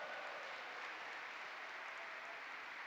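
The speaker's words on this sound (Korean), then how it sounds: "박수로 환영해 주십시오." A church audience claps to welcome the judge, a dense, even wash of applause that stays faint and distant throughout.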